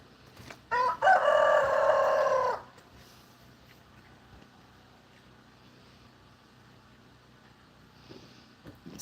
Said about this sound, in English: They have a crowing competition, the ones up here and the ones down at the barn area.